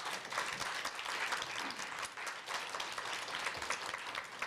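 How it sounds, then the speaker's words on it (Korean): A university lecture audience applauds, a sustained, even wash of many hands clapping at moderate volume for several seconds, filling the hall without voices. "큰 박수 부탁드리겠습니다."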